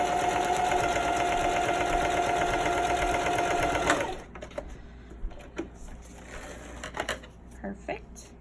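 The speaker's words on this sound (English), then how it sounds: "So I'm just going to back stitch and then feed it through like normal." Sewing machine back stitching and then feeding thick fabric for a reusable snack bag, a loud steady mechanical whir that stops after about four seconds, followed by soft handling noises.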